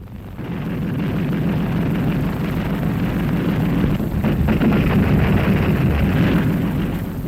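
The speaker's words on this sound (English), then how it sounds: "Our barrage covers the sky." A naval anti-aircraft gun barrage during the Battle of Leyte Gulf fires at enemy planes. Dense, continuous roaring and rumbling blasts merge into one loud, sustained wall of sound.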